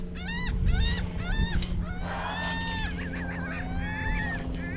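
A bird, probably a goose, gives a series of loud, repeated honking calls, some in quick bursts, close by on an outdoor site during metal detecting, with a faint background hum.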